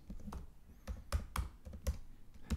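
Quiet, uneven clatter of keys on a computer keyboard while a new PHP file is created in a code editor, a run of light taps and clicks with no voice over them.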